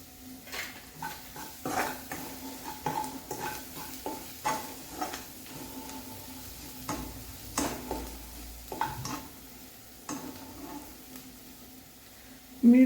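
Spinach with salt is stirred in a pan over a soft sizzle, with repeated scraping and tapping strokes of a utensil against the metal at an uneven rhythm.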